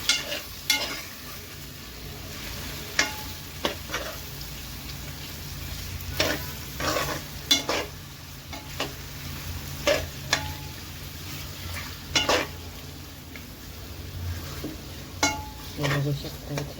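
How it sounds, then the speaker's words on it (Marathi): A spoon gently stirs freshwater fish in a frying pan, giving intermittent scraping clinks over a steady low sizzle, with a few sharper taps scattered throughout at close range. "हळू चमच्याने ते हलवूया"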